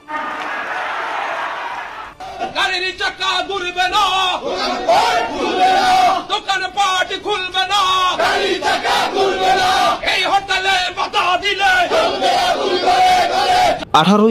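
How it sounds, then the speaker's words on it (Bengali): Awami League protest march in Rajshahi outside the Kumarpara party office, a dense crowd chanting slogans in loud rhythmic bursts that continue steadily after a brief quieter start. "রাজশাহীতে কুমারপাড়া দলীয় কার্যালয়ের সামনে থেকে বিক্ষোভ মিছিল করেছে আওয়ামী লীগ।"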